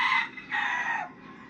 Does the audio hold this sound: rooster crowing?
yes